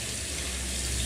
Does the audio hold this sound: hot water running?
yes